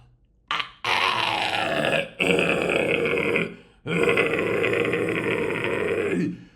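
Three long, deep guttural metal screams with a rough, growling false-chord rasp, each lasting over a second with short breaths between.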